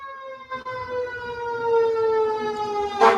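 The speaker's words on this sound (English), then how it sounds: "a big fire truck just went by, beeping the horn and all, and sirens." A fire truck siren sounds loud and close in a steady, slowly falling wail, ending in a burst of noisy blare as it passes, with no voices.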